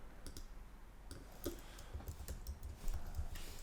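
Quick, irregular keystrokes on a computer keyboard while text is entered into a Figma iOS app design; soft clicks come in small bursts and singles at close range.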